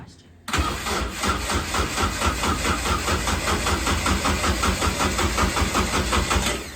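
A race car engine at a race shop cranks and catches after a brief quiet lead-in, then settles into a loud, steady, close idle with a rhythmic pulse that continues through the rest of the clip, without any talk.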